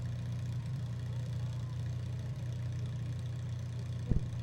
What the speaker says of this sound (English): these tractors are all going to start getting louder as the night progresses.